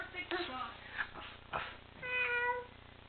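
A young child imitates a cat with a few playful meows, the last one drawn out and tonal, heard close in an outdoor setting with quiet background noise.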